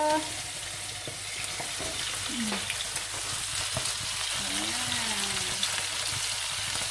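Tuyo, dried fish, sizzles and crackles steadily in a hot pan, close and continuous, with faint clinks of a utensil stirring.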